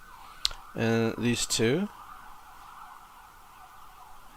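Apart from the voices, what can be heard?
ambulance siren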